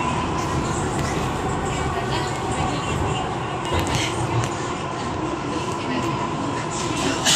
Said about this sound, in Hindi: अभी हम मेट्रो के अंदर हैं और अभी मेट्रो में बैठे हुए हैं